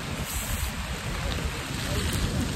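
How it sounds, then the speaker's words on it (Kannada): Rain falls near a hidden waterfall at Soormane Falls near Kalasa, Chikmagalur, a dense steady hiss of drops that holds throughout with voices faintly under it. "ಮತ್ತೆ ಮಳೆ ಮಳೆ ಮಳೆ ಮಳೆ ಮಳೆ"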